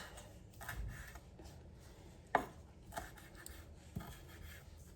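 A knife rough-chopping fresh basil on a cutting board, a few soft, spaced taps with one sharper knock, quiet and close.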